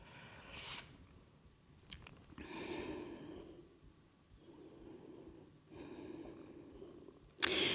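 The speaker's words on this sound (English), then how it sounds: "See if you can just take some long, deep inhales and exhales now" Long, slow breaths during a vinyasa yoga class, soft airy inhales and exhales rising and falling in a few drawn-out waves, close and quiet, with a sharper sniff at the very end.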